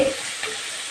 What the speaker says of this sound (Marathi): आता हे परत परतून घ्यायचा तेल टाकू मी